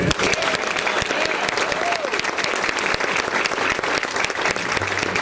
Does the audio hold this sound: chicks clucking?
no